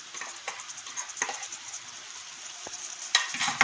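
Turmeric and ginger-garlic paste fry in oil over cooked onions, a soft close sizzle punctuated by light spoon taps and scrapes, with a few sharper clicks near the end.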